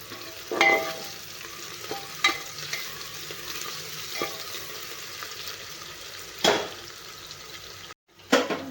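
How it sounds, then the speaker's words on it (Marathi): Onions fry in a pan for whole masoor pulao, a steady sizzle broken by several loud scraping stirs of a spoon against the pan, close by, with a brief drop to near silence near the end. "फक्त आपल्याला कांदा थोडासा मऊ करून घ्यायचा आहे"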